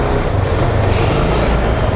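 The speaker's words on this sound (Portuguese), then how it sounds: "caminhão da Boticário" A Boticário delivery truck passes close by on the road. Its loud engine rumble fills the whole stretch, with a brief hiss partway through.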